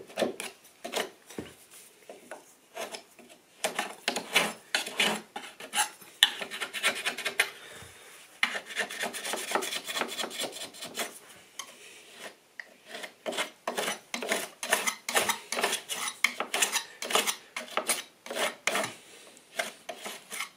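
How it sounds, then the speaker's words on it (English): Metal scraper raking old caulk out of the gap along a skirting board, in repeated rasping strokes of uneven length with short pauses between them, close and fairly loud. "What you'll find when you're scraping this out, it will leave some caulk on the wall there."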